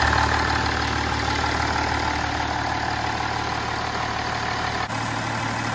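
A BMW E39 530d diesel engine idles close by with a constant, even rumble that stays steady throughout, with no voices.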